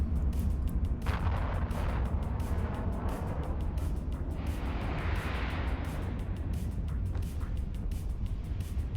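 A Cerberus T3 ship in Eve Online fires missiles in a rapid run of launch thumps and whooshes over a constant low rumble, without a voice.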